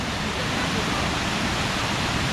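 Bo Mak waterfall in Tak, Thailand roars as a loud, steady broadband rush of falling water, close and unbroken throughout.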